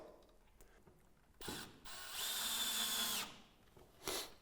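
A power drill drives screws to secure a large aluminium bracket on a Velux Integra electric roof window, heard as a few short whirring bursts separated by pauses, fairly quiet overall.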